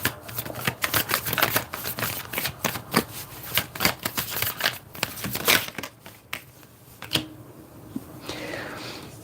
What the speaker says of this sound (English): Let me try a different shuffle.